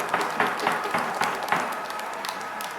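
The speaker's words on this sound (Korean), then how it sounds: "뜨거운 박수 부탁드리겠습니다." Audience applause following a request for warm clapping at a Korean civic speaking event, a steady patter of hand claps filling the room for a few seconds.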